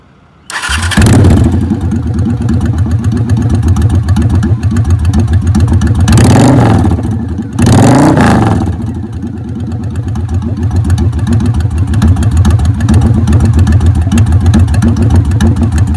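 A loud, raw Honda Shadow VT750 bobber exhaust with baffles removed barks to life and rumbles close by, with two sharp throttle blips in the middle, then keeps idling heavily.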